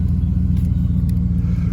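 A car engine runs steadily at a deep, even rumble, loud and close, with no voices over it.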